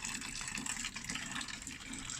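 Water wheel pump with a thick hose sucking in and pushing out water, a steady close rushing gush of flowing water without pause.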